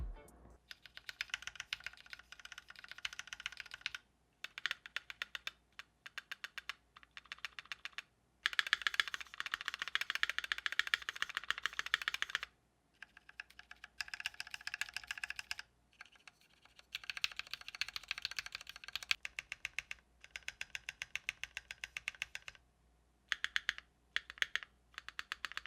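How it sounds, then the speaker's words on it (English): A Keychron Q2 mechanical keyboard with lubed stabilizers typed on in close bursts of rapid clacking, separated by short silent pauses, with no talking. "Here's a quick sound test before and after."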